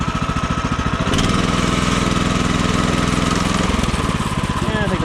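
A sawmill's small gasoline engine runs loud and close, with a steady chugging drone and a rough, fluctuating throb partway through. Someone talks over it.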